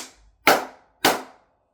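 Two sharp hand claps, about half a second apart, ring out in a room full of singing bowls, each followed by a short decaying ring.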